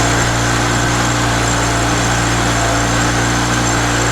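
An outboard motor on a boat, trimmed up for shallow river water, drones loud and steady at close range with a constant buzzing hum and no breaks.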